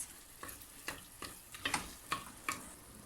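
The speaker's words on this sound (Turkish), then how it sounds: "Kendimimizi ve soğanımızı güzelce kavuracağız" Onions and cracked wheat sautéing in a pan for Erzincan tarhana soup, heard as a quiet, steady sizzle broken by several light stirring scrapes at irregular intervals, with no talking.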